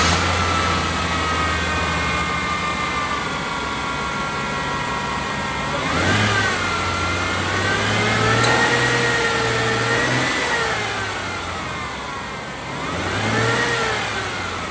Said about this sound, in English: I'm just gonna do a few basic engine revs